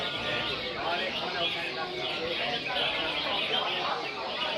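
Caged pet songbirds chirp and trill together at a Sunday bird gathering in Bedok, a dense, continuous chorus of overlapping calls with people talking nearby throughout.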